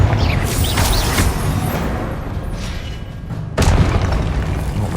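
A spell explosion in Hogwarts Legacy goes off with a booming, crackling blast. The rumble dips, then a sharp second burst cuts in near the end, all set amid layered game effects.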